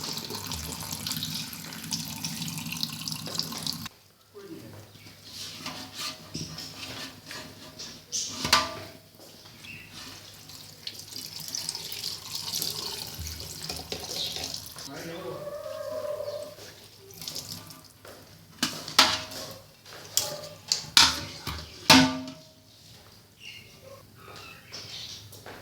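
Running tap water rinses homemade paneer in a sink, a long uneven stream with splashes, brief breaks and sharp clinks, moderately loud and with no talk.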